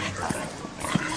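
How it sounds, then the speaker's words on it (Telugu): A dog barks twice at a distance, short muffled yaps spaced apart, over a noisy background with faint talk in a tense horror film scene. "ఇక్కడ కుక్కను ఏదైనా పెంచుతున్నారా సార్?"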